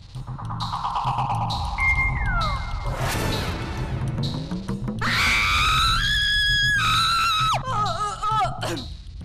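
A woman screams loudly and at length in a comedic television scene, her cries rising and warbling over clashing sound effects and a crash, with no clear speech.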